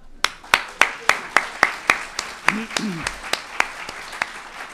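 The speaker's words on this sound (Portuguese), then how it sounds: "Pelo menos agora foi aplaudido." An audience at an academic conference claps in a steady, evenly spaced rhythm of sharp, close claps, with a voice briefly speaking midway.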